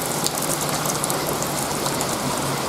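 A light rain shower falls steadily on a yard on a hillside, making a dense, even hiss of drops close by with no talking.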